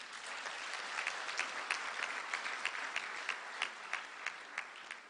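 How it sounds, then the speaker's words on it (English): Ceremony audience at a science, technology and innovation gathering gives a sustained round of applause, a dense even patter of many hands at moderate distance with regular sharper claps. "I would like to once again call for a very good round of applause for all the speeches that we received this morning"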